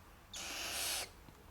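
A baby barn owl gives a single rasping, hissing screech lasting under a second, close and fairly loud against a quiet room.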